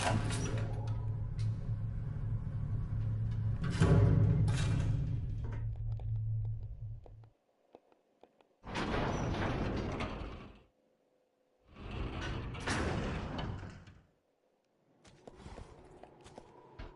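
Elevator in Resident Evil 0 running in a game: a loud mechanical hum with grinding machinery for several seconds, then separate bursts of clanking motion after gaps of silence.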